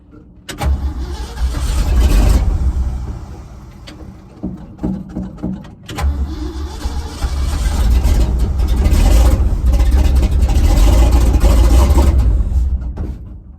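A carbureted engine with an electric choke cranks, catches and runs loudly, dropping briefly before firing up again and running steadily at a strong idle, with no talk over it.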